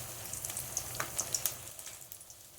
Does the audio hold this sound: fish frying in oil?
yes